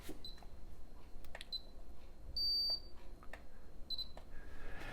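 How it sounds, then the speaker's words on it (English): A Futaba 4PV radio transmitter in display mode gives short, high electronic beeps at irregular intervals, including one longer tone, clear and close against a quiet background. "to let you know that you're not transmitting, it will flash and you can hear it beeping."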